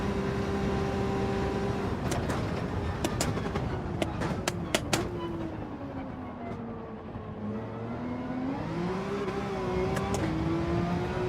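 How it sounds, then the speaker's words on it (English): A Porsche engine drives a lap in Gran Turismo 7, holding a steady drone whose pitch dips and climbs through gear changes and throttle shifts. A few quick clicks cut in midway. "let's go for a little lap, see what the Porsche feels like"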